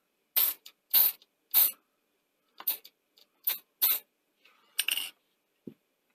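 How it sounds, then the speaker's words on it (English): Silicone lubricant sprayed into the tray mechanism of a Tascam CD160 CD player that has been stuck open: about eight short, close, sharp hissing bursts in an uneven rhythm, ending with a faint squeak. "Spray some of this in here."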